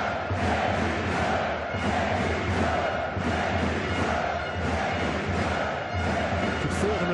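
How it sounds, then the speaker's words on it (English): A packed handball arena crowd at Telekom Veszprém's EHF Champions League main-round match roars after the Veszprém equaliser: a loud, sustained wall of cheering with rhythmic chanting surges that fills the whole hall. "that gets the crowd going"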